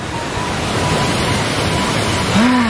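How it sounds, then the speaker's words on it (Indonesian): A waterfall in a village roars as a steady, loud wash of rushing water close by, with a brief voice sound near the end. "Ini benar-benar real asli di pinggiran air terjun."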